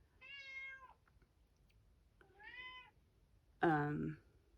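A cat meows three times in a quiet room, two drawn-out mid-length calls followed by a louder, sharper final meow, each separated by near silence.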